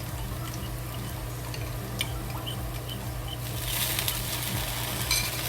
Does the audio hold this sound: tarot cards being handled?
no